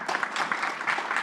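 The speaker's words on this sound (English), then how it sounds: "Please join me in giving a big round of applause to the 6 panelists" Audience applause for a panel at the close of a forum on fisheries and food security in Africa, a short burst of dense clapping that stays steady and fairly close throughout.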